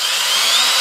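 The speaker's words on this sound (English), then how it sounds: "Let's see if a half inch drill will drill through this without drilling a pilot hole." A half-inch drill with a Milwaukee Cobalt bit whines at slow speed, boring without a pilot hole while a snow plow is mounted on a Scag Tiger Cub mower; a brief, loud, steady buzz close to the listener.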